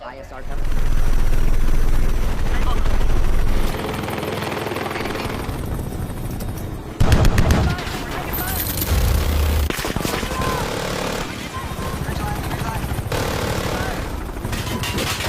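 A helicopter's rotor roars loudly and continuously while bursts of gunfire crackle and thud around it, with voices occasionally shouting.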